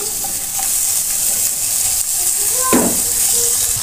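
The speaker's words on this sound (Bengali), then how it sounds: "আবার একটু নাড়াচাড়া করে কষিয়ে নেব" Spiced tomatoes for a dim dal stirred and fried in a pan give a steady, loud sizzle, with a spoon scraping through the mix partway along.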